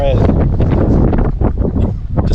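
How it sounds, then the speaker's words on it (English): Strong coastal wind at Point Reyes buffets the microphone with loud, steady rumbling gusts that never let up, with voices faintly mixed in. "Very windy."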